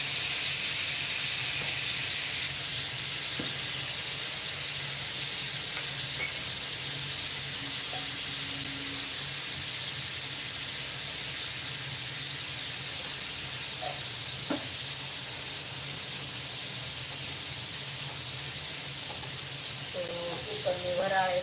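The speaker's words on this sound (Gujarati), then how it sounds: "કુકરની વરાળ મારા મોઢા માથે જ આવે છે" Steam escapes from a pressure cooker near a window in a loud, continuous hiss that fills the whole stretch, with faint voices now and then underneath.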